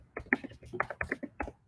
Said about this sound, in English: I'm typing this down.